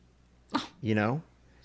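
A single sharp sneeze burst, followed right away by a short spoken remark; quiet room otherwise.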